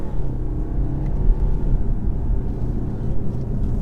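A 2021 BMW 520d Touring with a ZF 8-speed gearbox accelerates, giving a dense, low rumbling engine drone heard from inside the car, steady and fairly loud with no talking.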